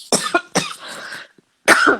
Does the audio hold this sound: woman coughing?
yes